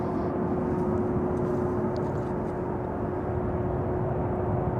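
JetBlue Airbus A321neo arriving at Amsterdam Schiphol Airport, heard as a continuous loud low jet roar with a steady hum, unbroken throughout, with no talk.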